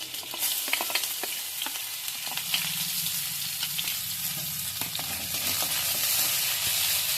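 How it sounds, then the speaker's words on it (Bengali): Garlic and ginger frying in hot oil with cumin seeds and dried chilli for dhaba-style tadka dal, a loud, continuous sizzle with scattered crackles and the scrape of stirring throughout. "রসুন আর আদাটাকে আমি ভেজে নিচ্ছি আগে"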